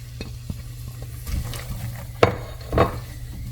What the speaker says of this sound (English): so now we're going to saute our onions for about 2 minutes so they get a little soft